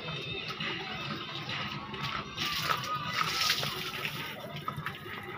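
River water at Barangay Plaridel on Dinagat Island sloshing and splashing close by, a busy, uneven wash of small splashes heard under people chatting.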